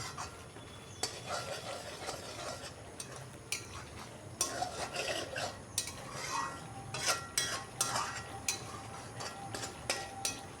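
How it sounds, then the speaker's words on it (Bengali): A spoon scrapes and stirs masala with milk and tomato in a pan for aloo paneer, a soft sizzle running underneath with irregular metallic scrapes and taps, close and fairly quiet. "আমি এইভাবে কষাচ্ছি।"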